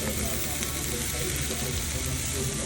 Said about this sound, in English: You hear that sizzle, baby? Fajitas is what we had